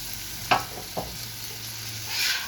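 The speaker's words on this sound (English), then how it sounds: "Give one last whisk to the sauce." Sauce for stuffed bell peppers being whisked on a Steelmade USA flat top griddle, a low steady sizzle with two short scraping strokes early and a soft swell of hiss near the end.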